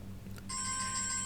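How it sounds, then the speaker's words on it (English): A mobile phone ringtone starts partway through and sounds steadily. It is a faint electronic tone over a quiet indoor background. "I forgot to put my phone off."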